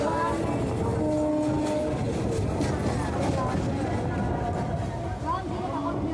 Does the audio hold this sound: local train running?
yes